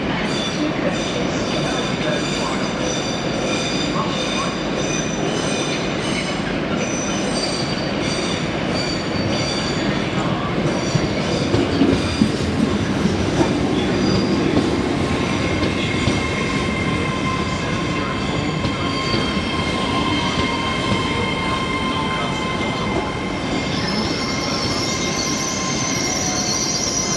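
A two-coach Northern passenger train bound for York moves through Doncaster station, with a long steady rumble, high sustained wheel squeal and faint clickety-clack of wheels over rail joints, heard close and continuous without talk.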